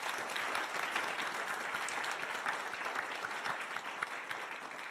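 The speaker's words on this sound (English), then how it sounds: "So I think they deserve a loud round of applause" Applause from a conference audience at a panel session, a steady wash of many hands clapping at moderate, somewhat distant level throughout.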